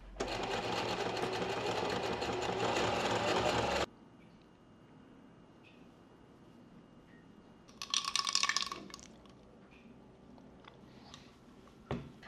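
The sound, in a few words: sewing machine zigzag stitching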